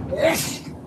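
A single sharp human sneeze, close and fairly loud, with a quick breathy burst.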